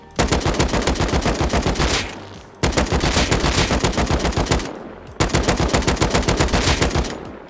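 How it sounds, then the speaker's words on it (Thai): Automatic rifle fire in Rust target practice comes in three long, loud, rapid bursts of evenly spaced shots, close up, with brief pauses between the bursts and no talking. "ประมาณนี้นะครับสำหรับการฝึกยิงในห้องทาร์เก็ตนะครับผม"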